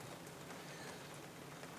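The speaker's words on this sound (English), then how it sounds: "It's raining." Steady rain falling outdoors, a dense, even hiss of drops on surfaces that stays constant throughout, with no voices.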